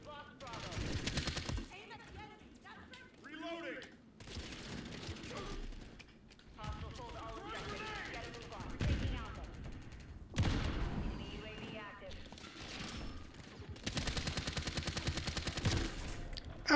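Rapid bursts of automatic gunfire from Call of Duty MW3 come in several loud volleys over a steady game soundscape, with someone talking between bursts.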